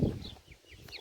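A young ash Marans crossbreed chick, kept with other poultry, gives several faint, high, short peeping clucks close by over a rough background rustle.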